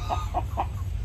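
Purebred American breed chickens on a homestead farm give three quick, soft clucks, evenly spaced over a steady low background rumble, with no one talking.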